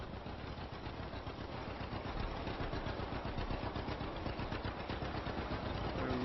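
A 1949 farm tractor engine runs steadily through the whole stretch at dusk on a farm during cultivating and grass drilling, a rough, continuous mechanical chug at moderate loudness with no talk over it.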